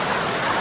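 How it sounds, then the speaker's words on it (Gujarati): Rushing water of the Gupteshwar Mahadev waterfall in the dense Pavagadh forest, a brief, steady broadband hiss of falling water at moderate level with no voices. "જોજો એટલું જોરદાર અહીંયા પાણી પડે છે।"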